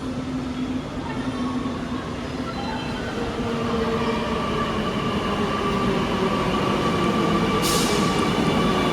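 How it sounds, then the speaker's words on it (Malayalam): A Kochi Metro train heading toward Tripunithura rumbles in, its wheels and motors droning louder as it approaches, with faint squealing and a brief high hiss near the end. "തൃപ്പൂണിത്തറ ഭാഗത്തേക്ക് വരുന്ന ഒരു മെട്രോ വരുന്നുണ്ട് അവിടുന്ന്."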